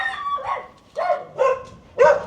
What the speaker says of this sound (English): Bloody dog's barking.